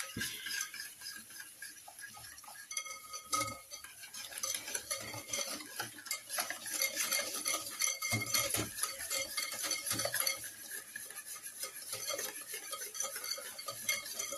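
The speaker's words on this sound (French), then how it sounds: "une fois que j'ai battu les œufs et le sucre" Eggs and sugar being beaten in a bowl for a mascarpone cake, a steady rapid scraping and clinking of a utensil against the bowl running continuously throughout with no talk.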